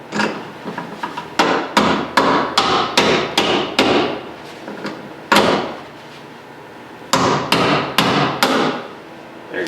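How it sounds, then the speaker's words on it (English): Sharp metallic hammer strikes knock out a door hinge pin on a 1992 Ford F350, a quick series of about a dozen close, loud blows, a brief pause, then several more hits. "grab that with a pair of channel locks and smack it with a hammer"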